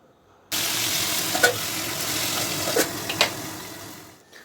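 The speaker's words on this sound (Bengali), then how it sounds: "বাকি যে আর্ধেক মাথাটা আছে সেটা এখন কড়াইয়ের মধ্যে দিয়ে ওটাকেও এখন ঢেকে ঢেকে কম আজে ভেজে নেবো" Half a fish head frying in hot oil in a covered wok, a sudden loud continuous sizzle that starts abruptly and holds steady with a few crackling pops, close up, then fades out, no talking.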